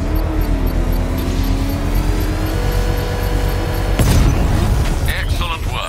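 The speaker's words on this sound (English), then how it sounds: "I can use the power winch to trigger a controlled explosion." Controlled bomb explosion in the Batman Arkham Knight video game, a sudden loud blast about two thirds through, cutting over a steady engine-like drone and tonal game music, then a rumbling decay.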